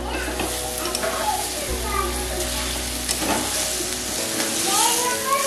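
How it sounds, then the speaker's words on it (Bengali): Pointed gourd and paneer fry in a pan with a loud, continuous sizzle and stirring noise up close, with a steady low hum underneath and faint children's voices in the background. "হালকা ভেজেই আমি এর মধ্যে দিয়ে দিলাম পটল আর পনির।"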